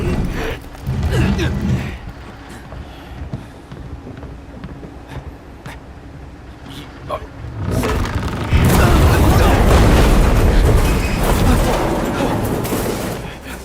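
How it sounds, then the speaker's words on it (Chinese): Deep booming cannon blasts rumble in the distance, then a heavy roaring wall of noise swells and stays loud, with wind buffeting the microphone. "我怎么听着像炮声？"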